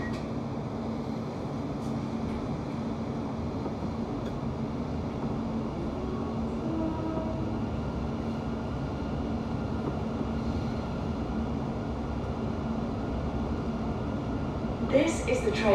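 A London Overground train on the Goblin Line between Barking Riverside and Gospel Oak rumbles steadily from inside the carriage, a continuous low drone with a brief rattle near the end and no talk.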